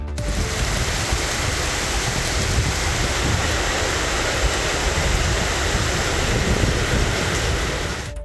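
Heavy rain pouring down over Chennai in a thunderstorm, a dense, unbroken hiss of water, loud and close, steady for the whole stretch with no other sounds.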